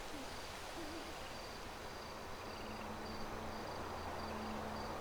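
A night ambience from GTA V with an owl-like bird hooting faintly and repeatedly in the distance over a steady bed of crickets and insect noise.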